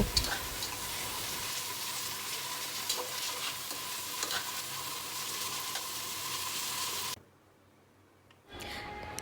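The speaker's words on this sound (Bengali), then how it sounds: "পেঁয়াজ দেওয়ার পর বাদামি রং হওয়া পর্যন্ত ভেজে নেব" Two cups of onions sizzle steadily in hot oil while browning for a beef and potato curry, a dense, even frying hiss that cuts off briefly near the end.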